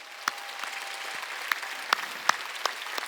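A church congregation claps in scattered, sparse applause, individual hand claps spaced irregularly and fairly quiet in a reverberant hall.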